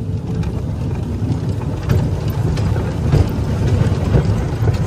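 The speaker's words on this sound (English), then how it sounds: "There's our air compressor, noisy air compressor." A noisy air compressor runs steadily inside the cab of a rail vehicle, a continuous low mechanical drone with a rough, droning texture that stays loud and even throughout with no talk.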